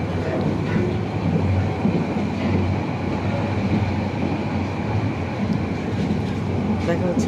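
A passenger train bound for Chattogram rolls along with a continuous low rumble and faint rhythmic rattling from the carriages, while people's voices murmur faintly underneath.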